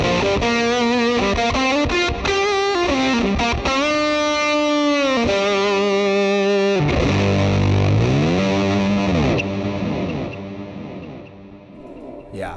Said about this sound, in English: Nice delay, nice reverb, and a big fat fuzz sound.